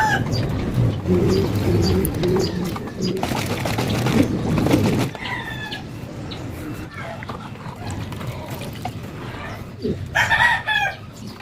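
Racing pigeons in a loft during a summer training camp: close, busy bird calls and coos that come and go, with a person talking over them.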